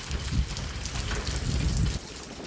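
Steady rain falling by the ferry landing, a constant hiss of drops on surfaces with low rumbling gusts underneath, fairly quiet and unbroken, with no voices.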